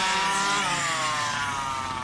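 A Rovan Baja RC car with a 50.5cc engine and a CPI big bore pipe screams at high revs during a drag race, a loud, steady, buzzing wail that rises in pitch and carries on without a break.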